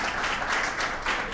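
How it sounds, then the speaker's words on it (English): Brief applause from an audience at a women's achievement awards ceremony as an honoree is welcomed to the stage, fairly soft and even, with no talk over it. "Big round of applause"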